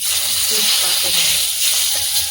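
Bay leaf dropped into hot oil after chillies in a home kitchen, giving a steady hissing sizzle with a voice talking over it.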